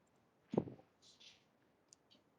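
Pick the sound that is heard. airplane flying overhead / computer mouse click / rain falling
computer mouse click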